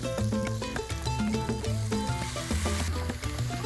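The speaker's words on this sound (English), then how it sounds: "I'm gonna add my shrimp to this mixture here." Shrimp go into a hot pan with a Spanish tortilla mixture, sizzling and crackling steadily throughout beneath prominent background music.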